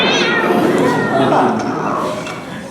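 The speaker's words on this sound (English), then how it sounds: "We actually recorded all of these very realistic cat VO sounds" Realistic cat meows recorded as voice-over for the Leonardo's Cat video game, a few drawn-out mews close to the microphone, with a voice and light clinks behind.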